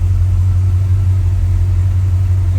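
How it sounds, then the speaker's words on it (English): A 1956 Chevrolet Bel Air engine idles at about 600 to 700 RPM, a steady low rumble with no change in pace, close and loud. "Idling about, what's the idling at? 600, 700 RPM."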